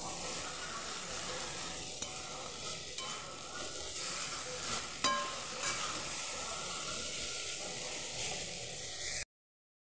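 Egg chowmein noodles with salt and peanuts are stirred and fried in a pan, giving a continuous close hiss and sizzle with scattered scraping clicks of the spatula; no voices, then it stops abruptly.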